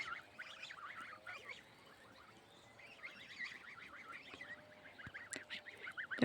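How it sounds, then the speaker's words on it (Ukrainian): Geese honk repeatedly in scattered bursts, moderately distant and fairly quiet, with several birds calling over one another outdoors. "Гуси мої зібралися вже додому."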